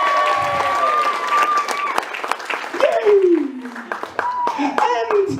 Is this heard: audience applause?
yes